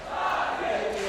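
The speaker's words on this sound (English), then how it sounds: "The crowd is cheering" Crowd at a CS:GO esports match cheering, a loud continuous roar of many voices with shouts, heard for a brief moment.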